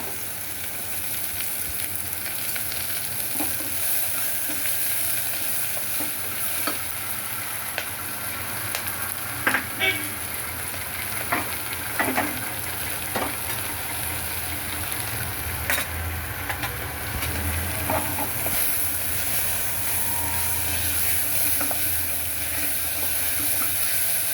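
Salted onions sizzle steadily in a hot pan for a kuzhambu, with a constant frying hiss and occasional scrapes and clinks from stirring, close up with no talking.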